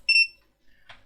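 Multimeter continuity-test beep while checking filters on cheap eBay spare parts: one short, clear high-pitched beep at the start, followed by faint clicks and rustling of probes.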